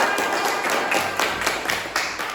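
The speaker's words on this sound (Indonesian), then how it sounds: "Oke, tepuk tangan semuanya" A classroom group clapping together, a short loose round of hand claps with uneven rhythm, fairly close and moderately loud.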